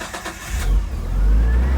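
An old Nissan Skyline Hakosuka engine cranks briefly with uneven chugging, then catches and settles into a loud, steady low rumble close by.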